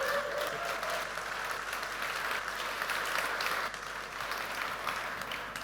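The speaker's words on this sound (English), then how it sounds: "Give Bartosz a round of applause" A conference closing-ceremony audience breaks into full, dense applause that holds steady and loud for several seconds before easing slightly.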